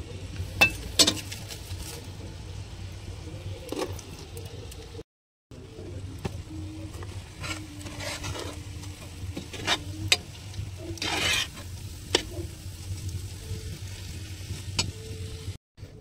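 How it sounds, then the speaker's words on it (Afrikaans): Spices tipped into a hot pot for curry fish sizzle and crackle steadily, with stirring scrapes and brief utensil clinks across the pan, a short gap midway, then continued frying noise. "Ek gaan nou al hierdie speserye hierso ingooi."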